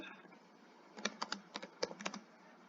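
Python code is typed on a computer keyboard in a quiet room, with a faint hum at first and then a close, quick run of clicky keystrokes.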